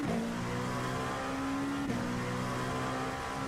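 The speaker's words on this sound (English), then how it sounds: "Love the way this car sounds." Race car engine in the iRacing simulator, a loud steady high-pitched drone held at constant revs, dipping briefly near the middle before settling back, heard alone.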